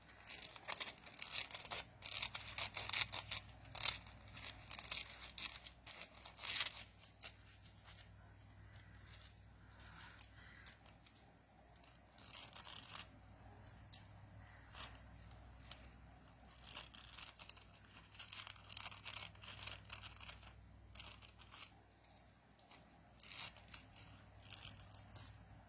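Scissors snipping through paper during a papercraft session with stamped leaves, a quiet series of short, crisp cuts and rustles at close range, repeating irregularly over a faint steady background hum.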